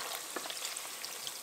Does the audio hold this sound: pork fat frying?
yes